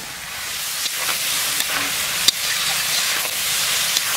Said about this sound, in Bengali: এবার ভেজে রাখা আলুগুলো তুলে দিচ্ছি।